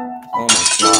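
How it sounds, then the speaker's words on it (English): Icicles shattering in a snowy forest scrolling platformer game, a bright glassy crash breaking out after soft tinkling tones, with scattered clinking shards ringing on briefly. "It legit sounds like they just smashed the glass."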